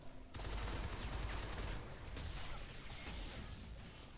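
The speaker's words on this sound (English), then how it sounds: "Is that a turret? Sounds like a turret," Turret gunfire in the video game Shadow Complex Remastered, a continuous rapid automatic burst that starts abruptly and rattles steadily at moderate distance, fairly faint overall.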